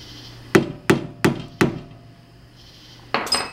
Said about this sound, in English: You're gonna hammer it so you can bend the metal so that it locks into